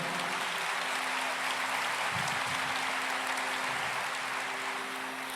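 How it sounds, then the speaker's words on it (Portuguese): Congregation applauding in a church during a sermon, a soft, steady wash of clapping heard from some distance with a low hum underneath. "Pode aplaudir o Senhor."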